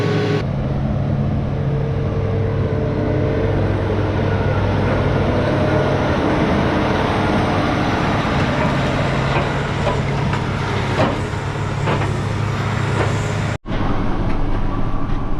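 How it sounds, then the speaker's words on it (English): A forage chopper arrives at a farm field, a steady heavy engine drone with deep low rumble holding throughout, loud and close, with a brief dropout near the end and no talk. "Oh, here comes the chopper now, and we're gonna get started here at home"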